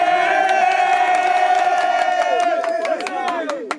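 A crowd cheers loudly for a singer at an event in Burundi, a long sustained shout of many voices with whoops and clapping that tails off near the end.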